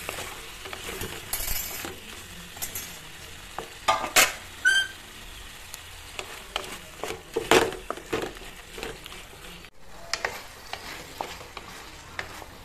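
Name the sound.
potatoes frying in a pan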